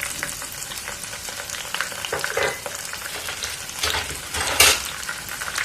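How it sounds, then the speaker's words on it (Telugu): Green chillies sizzle and crackle steadily in a frying pan for peanut pakoda, with louder bursts of spatter and a brief scrape near the end, heard close up with no talking. "వేగనివ్వండి, పచ్చి వాసన పోయే వరకు."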